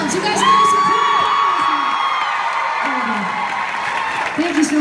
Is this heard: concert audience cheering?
yes